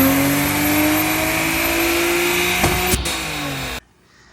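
A Nissan Skyline engine holds a loud, steady high-rev scream on a dyno. A couple of sharp clicks come near the end, then the sound cuts off abruptly into near silence.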